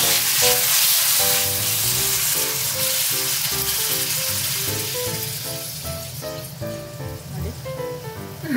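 Yakisoba fries in a freshly resurfaced iron frying pan over a low flame, a steady soft sizzle that stays fairly loud throughout, with no talking.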